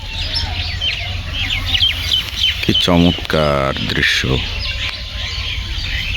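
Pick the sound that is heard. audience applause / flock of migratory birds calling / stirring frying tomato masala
flock of migratory birds calling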